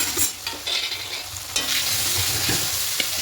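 Ginger garlic paste with ground coriander and cumin fries for a cauliflower curry, a close crackling sizzle with uneven stirring scrapes and knocks against the pan.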